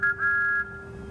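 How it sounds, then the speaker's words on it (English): A cartoon steam engine lets out a short two-note toot, a bright clear whistle tone that cuts off after about half a second, leaving a faint steady hum. "He tooted his best friend's whistle."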